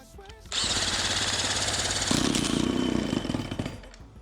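An old outboard motor on an aluminum deep-V boat coughs to life after a brief quiet moment, then runs loud and steady with a rough buzzing drone that rises in pitch midway before easing off.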